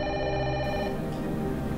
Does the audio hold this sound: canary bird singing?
no